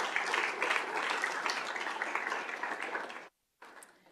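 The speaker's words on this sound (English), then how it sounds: "let's give them a round of applause anyway" An audience at a school board governing meeting claps in steady applause for about three seconds, stopping abruptly before a short burst of clapping resumes.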